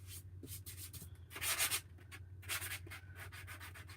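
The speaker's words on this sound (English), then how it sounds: "Any place where you get like a smudge on these patterns, you can just go back and get it off with sandpaper" Sandpaper rubbed by hand over a painted wooden door hanger to lift smudges, close raspy scrubbing strokes in short bursts over a low background hum, with no talk.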